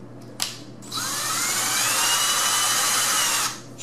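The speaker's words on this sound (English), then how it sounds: "trusty pilot hole drilling drill" A power drill bores a pilot hole for a door latch while a replacement door is fitted, a brief click, then a steady high whine held for about two and a half seconds, close and clear.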